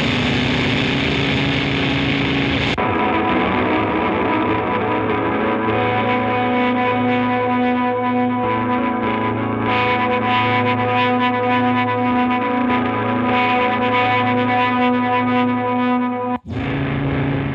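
Electric guitar played through a vintage EarthQuaker Devices effects pedal, heavily distorted and modulated with echo and chorus-like swirl, sustained chords ringing loud and dense for most of the stretch before an abrupt cut near the end, no voices.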